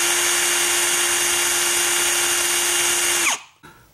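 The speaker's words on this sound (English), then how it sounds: "apply a little bit of pressure here as you're running your drill in" A power drill whines at steady high speed while turning a Wayne Dalton TorqueMaster garage door torsion spring, loud and close, then winds down and stops near the end, followed by a short clack.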